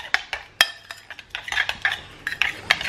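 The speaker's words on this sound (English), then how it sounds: "I'm just going to give that a good mix together." Homemade chilli being stirred in a pan with a utensil: quick, close clinks and scrapes of metal against the pan in an uneven rhythm, with no voices.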